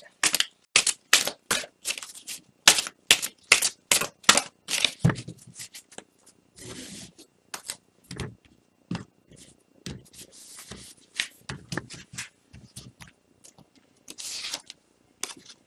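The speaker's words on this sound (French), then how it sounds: "je vais clôturer le tirage avec une carte message de vie de Mario Duguay" An oracle deck being shuffled and a single message card drawn, with bursts of crisp, close card riffles in quick series, then softer scattered taps and slides, heard alone without talk.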